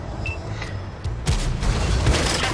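A tank cannon in a video game, the Minotauro, fires a single loud boom that fails to penetrate, its rumbling blast kicking in sharply partway through and lingering over a dense background of battle noise.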